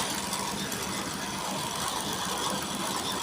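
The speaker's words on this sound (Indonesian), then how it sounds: "Panasin supaya tidak kaget mesinnya ya guys." A comforter quilting machine runs to warm up, giving a steady, continuous mechanical whir with a faint rapid rattle, close by and unbroken throughout.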